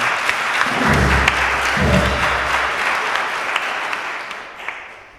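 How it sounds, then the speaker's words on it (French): A congregation at an Easter Sunday Mass in a parish church applauds, a full, even round of clapping with a few low thumps early on, slowly fading toward the end. "On peut applaudir Benoît aussi"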